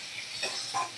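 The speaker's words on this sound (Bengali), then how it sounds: "এবার মশলা ভালো করে কষিয়ে নেব সব মশলাগুলো।" Spices are stirred and fried in a pan during home cooking, giving a steady close sizzle and hiss with soft scraping stir strokes passing through it, and no talk.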